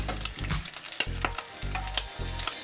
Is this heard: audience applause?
no